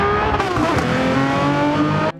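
Jaguar XJR-9 Group C race car engine in Gran Turismo 7, a loud, steady high-pitched wail of harmonics holding strong for about two seconds before cutting off abruptly.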